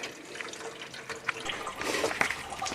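Coolant water drains and splashes from a 2011 Ford Focus cooling system during a water neck replacement, a steady close trickle with irregular drips and splatters, no talk.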